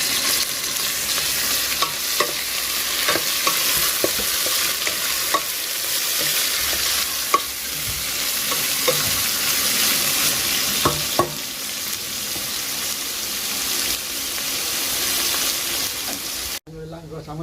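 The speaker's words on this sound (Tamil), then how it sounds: "இப்போ புடலங்காய் போட்டுட்டு கிளாரி விட்டால் சரி." Snake gourd and chana dal curry stir-frying in a pan gives a steady, close sizzle broken by regular scraping clicks of a spoon stirring.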